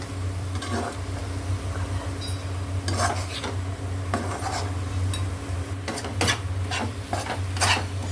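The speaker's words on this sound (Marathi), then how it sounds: "चांगलं मिक्स करून घेतलं मसाला कांदा टोमॅटोमध्ये." Spiced Malvani-style masala being stirred with onion and tomato in a pan for a prawn dish, with repeated scraping and stirring strokes over a steady low hum, close and fairly loud.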